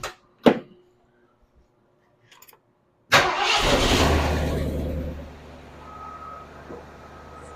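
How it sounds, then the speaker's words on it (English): A 1976 Mercury Monarch classic car, fitted with new spark plugs and wires, cranks and fires up after a couple of brief clicks, roaring loudly at first and then settling into a steady, lower idle nearby. "It runs, and I don't feel that missing when I gave it gas."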